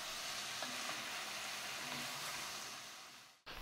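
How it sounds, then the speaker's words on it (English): Mushrooms sautéing in a pan for chowder, a broad steady hiss of frying that fades and cuts off near the end, fairly faint. "now we're going to move on to the sauteing part of this"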